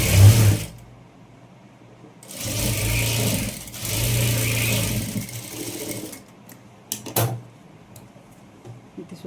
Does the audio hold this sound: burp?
no